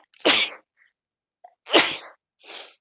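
A person sneezes twice in quick succession, loud and close, followed by a softer breathy sniff, with silence between.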